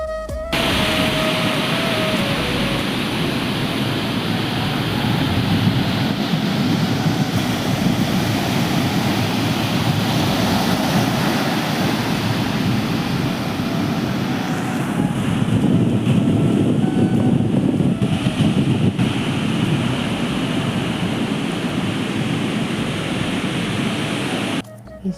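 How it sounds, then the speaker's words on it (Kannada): Waves crash steadily onto Malpe beach in Udupi, a loud, continuous surf roar blended with heavy wind buffeting the microphone, with a brief lull midway before the roar swells again. "ನೋಡಿ, ಅದು ಅಲೆ ಹೆಂಗೆ ಬರ್ತಾ ಇದೆ."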